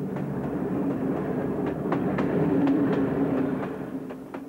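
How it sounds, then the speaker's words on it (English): A passenger train on a Hungarian line to Budapest runs over the rails with a steady loud rumble and regular clickety-clack beats from the wheels, heard close and without talk. "gypsies have to travel every weekend on a special black train"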